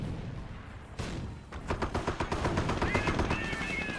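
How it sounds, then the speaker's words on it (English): Mortar shells landing in a Company of Heroes battle, a sudden blast followed by rapid rattling gunfire and explosions, loud and dense, with faint talk mixed in. "Mortar perhaps landing right there."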